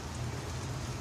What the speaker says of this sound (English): we just had a very nice sunny rain shower right here in good old Lewisville, Texas